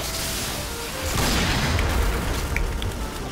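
A Dragon Sniper rifle fires in the Point Blank shooter game with a Magnum-like report: a single low, heavy boom that rolls on for a couple of seconds against a steady game backdrop.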